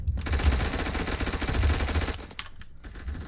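Rapid automatic gunfire from the Rama 11 in a video game, a dense sustained burst of shots lasting a couple of seconds, then a brief pause and a few more scattered rounds, loud and close.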